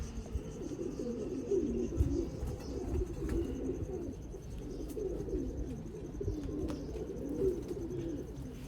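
Pigeons of a Mian Nazir bloodline coo steadily on a rooftop loft in Sialkot, a low, rolling murmur of overlapping calls that carries on throughout at a moderate, even level with no talking.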